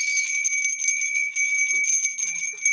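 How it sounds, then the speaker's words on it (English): A handheld bell rings with a bright, sustained metallic tone that holds and slowly decays over a couple of seconds, with faint soft knocks beneath it. "I'm gonna ring my bell for those energies."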